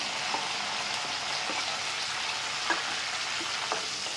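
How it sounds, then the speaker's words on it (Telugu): Curry leaves, sliced onions and green chillies frying in hot oil, making a steady, dense crackling sizzle with a few sharper pops, continuous and close throughout with no talking. "ఆయిల్ వేడైన తర్వాత కొద్దిగా కరివేపాకు వేసుకుందామండి."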